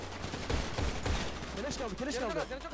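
Gunfire in FiveM, the GTA V roleplay game, comes as a few loud sharp shots early on, over continuous game noise with voices talking throughout.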